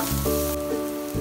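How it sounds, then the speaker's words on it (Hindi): Ginger, onion and bell pepper frying in a pan, a steady close sizzle across the short moment with a few shifts in tone, no talking. "अदरक डाल के थोड़ा सा फ्राई करेंगे। अब प्याज डालेंगे, शिमला मिर्च ऐड कर लेंगे।"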